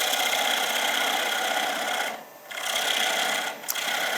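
A wood lathe cuts down the tenon on a bowl, a continuous close scraping rasp of tool on spinning wood with two brief dips where the cut lightens.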